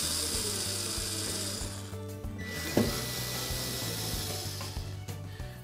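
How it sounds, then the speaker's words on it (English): A power tool removes retaining screws from the access panel of a front load washer, whirring steadily in short repeated bursts with a brief clunk partway through, alone and fairly close. "next, we'll locate and remove the retaining screws for that access panel"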